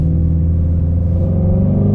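A Ford Mustang GT350's engine revs hard and close, a loud, continuous muscle-car roar whose pitch climbs slightly toward the end.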